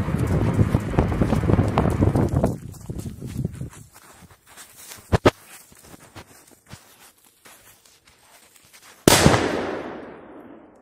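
A Mamba firecracker set off beside another firecracker outdoors: scattered crackling pops and sharp cracks after an initial burst of noise, ending in one loud close blast that fades out.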